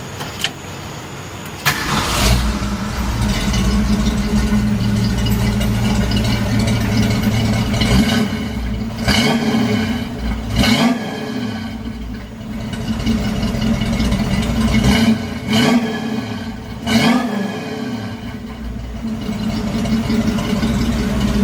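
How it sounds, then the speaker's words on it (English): A 1968 Ford Mustang engine starts, then idles loud and deep with a rumbling tone, revving up several times in rising surges. "It sounds way throatier, way meaner. It sounds like a bigger engine now."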